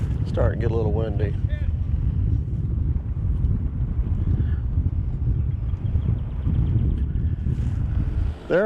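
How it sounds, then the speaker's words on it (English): Wind gusts outdoors on a fishing bank, a strong continuous low rumble buffeting the microphone throughout, with a short burst of talking near the start. "Starting to get a little windy."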